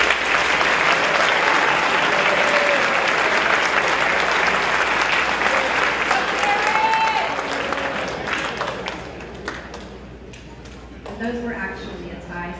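Loud, dense applause from an audience at a high school academic awards ceremony, sustained for several seconds before thinning into scattered claps, with voices murmuring as it fades.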